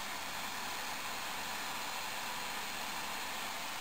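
A graphics card cooler fan runs at full 100% speed, a loud, steady whooshing roar of broadband air noise that holds unchanged throughout, with no voices.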